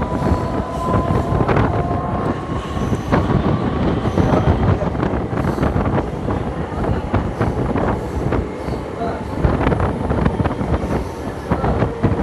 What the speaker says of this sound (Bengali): আমাদের ট্রেনটা এখন এসে দাঁড়িয়েছে গোপালপুর গ্রাম স্টেশনে।